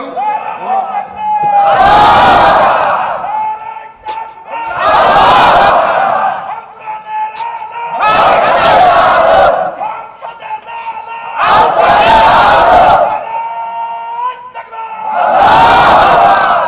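A large crowd at a Bangladeshi Islamic rally chants takbir, five loud roaring bursts of many voices at regular intervals, each answering a single leading call, with quieter murmur between.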